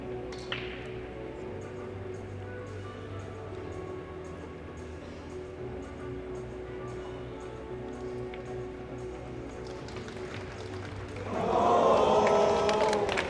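A crowd murmurs steadily in the arena of the 2023 Hanoi Open Pool Championship, then swells into a louder burst of reaction near the end, with background hum under it and no speech.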